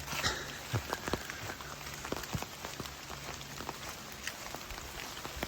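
Rain falling through a closed forest canopy on a woodland trail in West Virginia, steady patter with scattered heavier drops striking leaves and ground, soft and continuous throughout.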